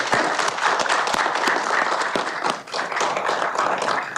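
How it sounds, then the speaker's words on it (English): Warm applause from a crowd, steady dense clapping throughout, with a brief dip before it swells again. "Can we just give them a nice warm round of applause"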